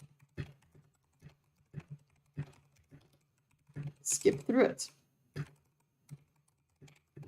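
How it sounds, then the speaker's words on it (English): Computer keyboard keys clatter in short, spaced clusters of taps close to the microphone, with a brief burst of speech in the middle. "Can you guys hear my keyboard?"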